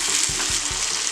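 A pan of pigeon pea and eggplant curry sizzles as a large tomato is stirred in, with a soft continuous frying hiss broken by several rhythmic scraping strokes of the spoon, up close.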